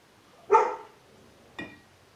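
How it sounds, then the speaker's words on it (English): Two dog barks a second apart, the first louder and longer, the second short and sharp, sounding from a little distance with quiet between. "dogs are not happy that they're not in here, so they're making a lot of noise."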